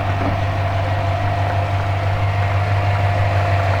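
A 2008 Chevrolet Silverado half-ton's 4.8 liter V8, the smallest V8 offered, idles steadily with a loud, close, even low rumble and no talking.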